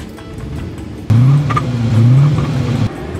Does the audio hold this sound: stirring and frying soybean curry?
no